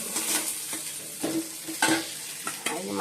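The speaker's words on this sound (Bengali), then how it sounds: "বন্ধুরা মাছটা ভাজছি" Fish frying in a pan in a Bengali home kitchen, with steady sizzling crackle under repeated stirring scrapes and clinks of a utensil against the pan, close and moderately loud, no voices.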